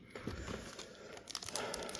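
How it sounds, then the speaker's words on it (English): Crinkly plastic foil of a Japanese Pokémon card booster pack, from a Team Rocket briefcase and booster box, being cut open with scissors: soft crunching and crackling, then several sharper snips near the end, close and fairly quiet. "Use the scissors to cut them open."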